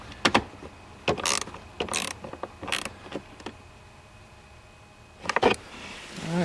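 Plastic screws are turned into the plastic housing of an '02 Chevy Silverado blend door and snugged, giving short scattered creaks and ratcheting clicks in separate bursts, close and fairly quiet, with gaps of near silence between.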